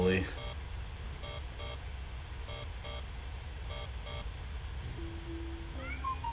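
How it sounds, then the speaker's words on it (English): A kitten meows repeatedly in the horror video game Amanda the Adventurer, short synthetic mews in an even rhythm over a steady backdrop, followed near the end by a sustained tone and a rising electronic sweep. "Oh, it's a kitty!"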